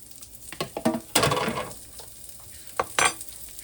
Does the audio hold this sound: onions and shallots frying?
yes